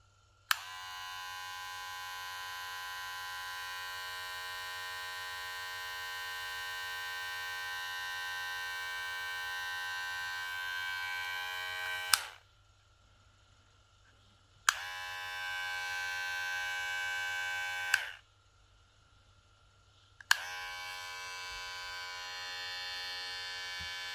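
A Kemei 1968 electric hair clipper hums with a steady bright buzz, running long for about twelve seconds, then switched off and on twice in shorter runs, close and without talk.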